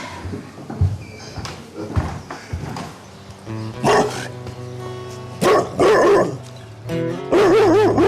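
A dog barks and yips in several loud bursts, some close together, with whimpering tones and background noise between them.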